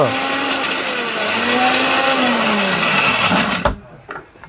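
A heavy duty blender runs at full power with a loud, steady motor whine and grinding roar, then cuts off abruptly near the end, leaving a few faint clunks.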